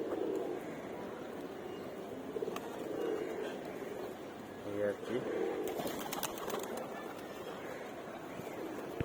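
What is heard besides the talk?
pigeons cooing in a loft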